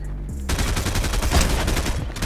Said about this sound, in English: you can shoot the people through the wall